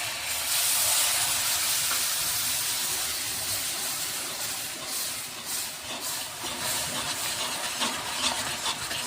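Hot milk poured into ready caramel for Bengali mishti doi, giving a loud, close, steady steamy hiss and sizzle that holds for several seconds and eases slightly toward the end, without talk.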